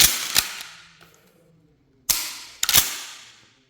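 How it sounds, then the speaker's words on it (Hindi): An RFI 12 bore pump-action shotgun fires three sharp, loud blasts, one alone and then two close together after a pause, each followed by a quickly fading echo. "यहाँ पे फायर करके मैं आपको दिखा देता हूँ कैसे आवाज़ आता है।"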